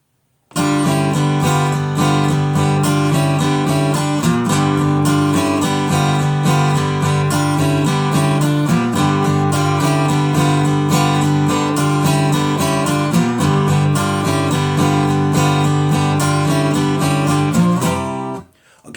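A guitar plays the full riff of a song, strummed loud and close in a steady repeating pattern with ringing chords for nearly twenty seconds, then stops abruptly, with no talking.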